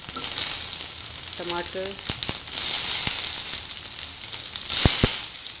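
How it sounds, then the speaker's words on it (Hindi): Mustard seeds, bay leaf, chopped onion, tomato and green chili sizzle steadily in a hot pan for a butter paneer masala, a close, continuous frying hiss that swells near the end, with a brief spoken word over it. "और अच्छे से सॉटे करूँगी।"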